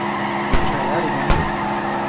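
Drift car in CarX Drift Racing Online, a sustained engine and tire drone with two sharp exhaust pops about three-quarters of a second apart, close and fairly loud.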